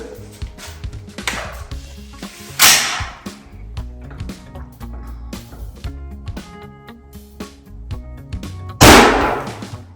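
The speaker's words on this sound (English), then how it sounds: "we're gonna shoot at this turkey head and see what this pattern looks like with this JEBS 560 and the rogue ammo" Two sharp, loud shotgun blasts from a turkey pattern test using a JEBS 560 choke and Rogue ammunition, one near the middle and one near the end, with quieter clicks and handling knocks in between and no talking.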